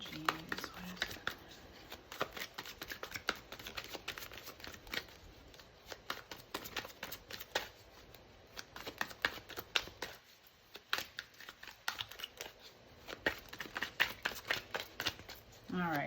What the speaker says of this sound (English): maybe I can't talk and shuffle